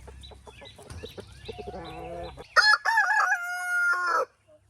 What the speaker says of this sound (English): All right, guys, you can come out of chicken jail now.